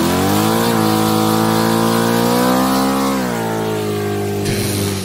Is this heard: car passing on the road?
yes